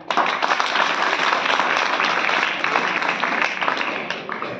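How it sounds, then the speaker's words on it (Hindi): A crowd at a student project event claps loudly for themselves, dense sustained applause that holds strong before tapering off slightly at the end. "अपने लिए एक बार जोरदार तालियां"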